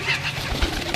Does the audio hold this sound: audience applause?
no